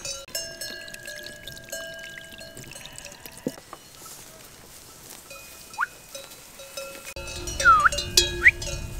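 Spring water runs from the ground in the mountains near a sheepfold, a soft trickling patter mixed with tinkling bells and scattered bird-like calls that grow louder toward the end.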